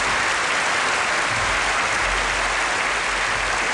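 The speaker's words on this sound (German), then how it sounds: "Ich glaube, ein Applaus sollte für die Familie Lutz doch." A television studio audience gives a dense, unbroken round of applause for the Lutz family on a German variety show, loud and even throughout.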